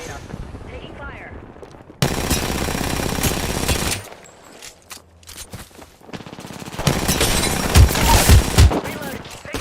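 Bursts of automatic gunfire in a combat video game come in loud volleys, with a sustained barrage and heavier shots near the end and quieter gaps between.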